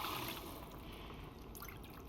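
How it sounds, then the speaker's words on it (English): Water poured into a pot of chana dal pulao with rice, a soft steady trickling and splashing close by that runs quietly for a couple of seconds with no talk. "These are 2 cups of water more added to this recipe for this beautiful dal pulao"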